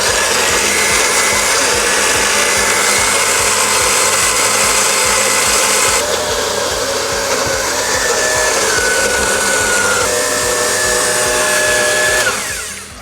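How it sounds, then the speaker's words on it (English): An antique Hamilton Beach blender with a glass carafe whirs loudly and continuously, its motor pitch shifting slightly as it purees, then winding down at the very end. "Going to my handy dandy antique Hamilton Beach blender."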